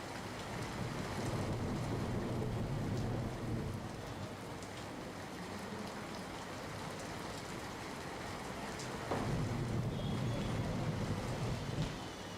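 Heavy, persistent rain falls in Bhavnagar during a spell of continuous wet weather, a steady broadband wash of rainfall with faint low rumbling beneath it and no speech throughout.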